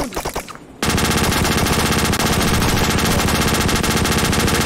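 Sustained, rapid machine gun fire in the video game Wardust, loud and continuous after a brief opening of mixed noise, with dense repeated bursts filling the rest of the clip.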